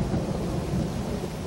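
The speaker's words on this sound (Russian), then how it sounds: "Вокруг них сверкали молнии и шумел дождь" Thunder and rain as a sound effect in a children's audiobook: a dense, steady roar of rainfall with a deep rolling rumble, loud and continuous without speech.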